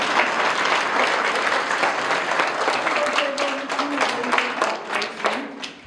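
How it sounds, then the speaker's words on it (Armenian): Sustained audience applause at a primary school first-grade celebration, a dense, loud, even roar of clapping hands throughout, tapering slightly at the end. "Եկեք բոլորս միասին նորից ծափերով շնորհավորենք։"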